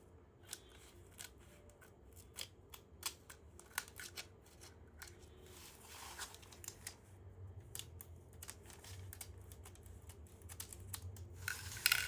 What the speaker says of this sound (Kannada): ಈ ಥರ ಫೋಲ್ಡ್ ಮಾಡಿಕೊಂಡು ಇದನ್ನ ಕಟ್ ಮಾಡ್ಕೊಂಡು ಬಿಡ್ತೀನಿ